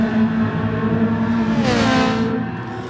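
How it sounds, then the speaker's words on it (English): Loud, continuous race car engine drone with a rising whine as one car passes and revs up, sustained throughout, from Ferrari 458 race cars in the video game GT Sport. "I can hear the cars"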